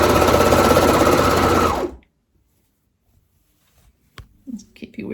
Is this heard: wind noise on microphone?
no